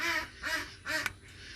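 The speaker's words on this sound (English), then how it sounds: "So you might be able to hear the ducks downstairs." A few nasal duck quacks in quick succession from downstairs, slightly distant, with a quiet background.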